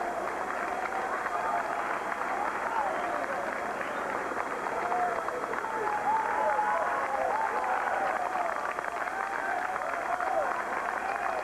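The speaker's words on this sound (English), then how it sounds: "Just listen for a moment to the sounds of this marathon and the fans on the streets of Paris" Spectators line the streets of Paris during the 2003 World Championships marathon and cheer and clap continuously. The wash of applause and distant crowd noise stays steady throughout, without any single standout shout.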